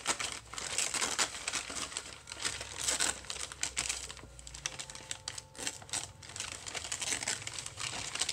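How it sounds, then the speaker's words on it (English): Packing paper crinkles and rustles continuously while it is torn along its perforation, a close, busy run of crackling and ripping sounds with no talk. "we're gonna tear it on the perforation here"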